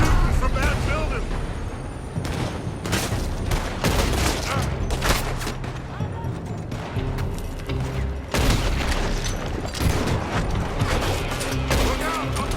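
Rapid gunfire rattles from a building in Red Dead Redemption 2, loud repeated shots and booming reports crackling in dense volleys, with shouted voices over the shooting throughout.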